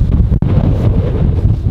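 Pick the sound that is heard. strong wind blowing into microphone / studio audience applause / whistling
strong wind blowing into microphone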